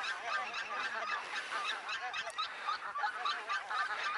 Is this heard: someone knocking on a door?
no